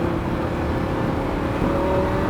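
Lamborghini Huracan engine pulling hard on a race track, a loud, steady roar from inside the car that keeps building without a break.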